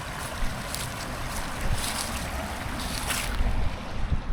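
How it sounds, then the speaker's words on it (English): Water of a natural spring at Big Spring Park in Cedartown, Georgia, flowing with a steady, broad rushing wash, blended with wind buffeting the microphone and no voices. "here's the spring right here. Here's the water."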